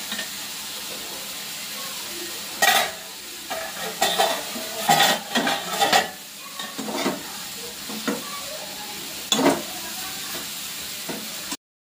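Saag greens frying in a pan with steady sizzle, broken by repeated scraping stirs of a spatula that clatter against the metal, close and fairly loud, with no talk.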